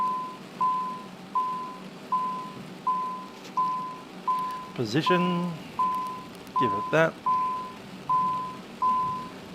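A cockpit alarm in the Citation CJ4 in Microsoft Flight Simulator beeps steadily at an even rhythm throughout, while pilots' voices talk over it in two short stretches.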